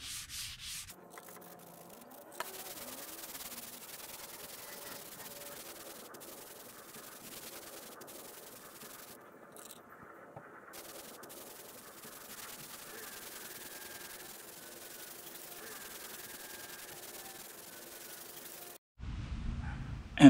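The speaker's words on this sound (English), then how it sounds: "You can also use a random orbital sander as well." Continuous, even random orbital sander noise on wood, a soft droning rub that runs steadily for a long stretch before a brief pause and louder handling at the end.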